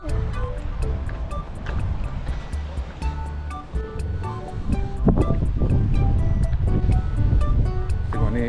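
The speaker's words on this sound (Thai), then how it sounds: "คลื่นไม่ค่อยแรงเท่าไหร่นะ" Gentle sea waves wash against the shore at Nusa Lembongan in Bali, a rolling surf that grows stronger toward the end, mixed with gusty wind buffeting the microphone.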